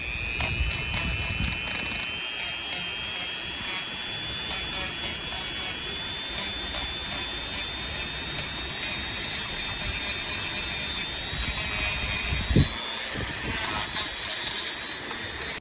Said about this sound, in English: take him outside and Dremel him. Make sure I use the slowest speed